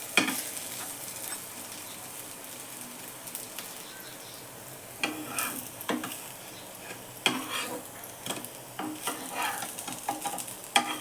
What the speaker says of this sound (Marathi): असे मस्त सोनेरी रंग होईपर्यंत भाजून घ्यायचे चांगले पॅटीस सगळे.